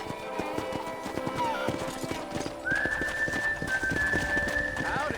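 In the video game Red Dead Redemption, rhythmic horse hoofbeats clip-clop steadily at a quick pace, with a whistle-like tone and a brief whinny over the galloping.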